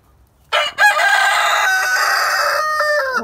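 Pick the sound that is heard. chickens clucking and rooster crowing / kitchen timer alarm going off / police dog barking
chickens clucking and rooster crowing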